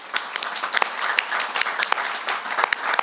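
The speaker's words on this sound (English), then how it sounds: "give him a round of applause real quick" Audience at a chamber of commerce legislative luncheon applauds with dense, steady clapping from many hands, fairly close and sustained throughout without speech.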